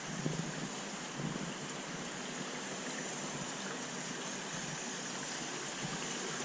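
Aeration bubblers and pumps running in the water of a 1000 gallon rubber-lined fish tank sump, a faint steady hiss and gurgle of bubbling water with a low hum, even and continuous.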